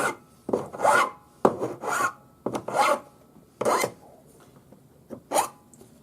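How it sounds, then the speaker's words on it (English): Rough ends of a metal bracelet being hand-sanded or filed: a series of short rasping strokes in uneven bursts, close and moderately loud, with brief quiet gaps between them. "Sand those ends so they're not rough."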